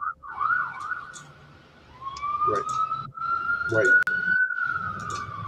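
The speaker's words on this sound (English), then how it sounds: "I know we got a siren going on. We'll just let it pass for a second." An emergency siren wails outside, its rising and falling tone sweeping steadily from a distance, while someone talks nearby over it.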